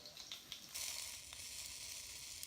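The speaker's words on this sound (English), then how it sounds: "My oxtails are frying" Oxtails sizzling and frying in a pan, a steady crackling hiss that swells slightly partway through, with no talking.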